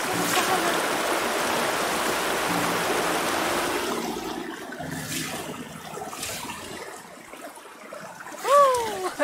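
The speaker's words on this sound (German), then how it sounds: "Ein Wasserfall." Waterfall in the video game Lost Ember, a loud rushing roar of water at first that recedes into quieter trickling, followed by a brief rising animal-like call near the end.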